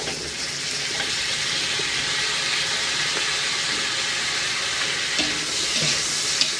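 Garlic and onion sautéing in a hot pan for chop suey, a steady, loud sizzle and crackle with occasional stirring scrapes, continuous throughout with no talking.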